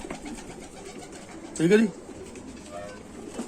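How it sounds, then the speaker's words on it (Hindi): An original Chanda Khani pigeon gives a short, soft coo in the middle of quiet background hiss, with someone speaking briefly just before it. "ओरिजिनल चंदा खानी कबूतर"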